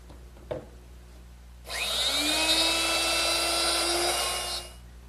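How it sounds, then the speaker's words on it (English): A wood router cuts a deeper mortise through a jig, spinning up sharply into a loud, steady high-pitched whine that holds for about three seconds, then winds down; a faint tap comes just before, with no talking. "lowered my router to make it deeper"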